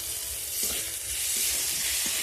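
Chopped tomatoes fry in a hot pan with salt for a prawn and cauliflower curry, giving a steady close sizzle with a few soft stirring scrapes through it and no talking.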